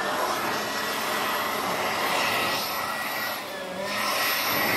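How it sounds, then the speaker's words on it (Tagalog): An air blower dries a motorcycle after washing. It gives off a loud, steady rushing roar that dips briefly and then comes back at full strength. "kapalagay natin pwedeng tigilan ng tubig, i-blower natin yan"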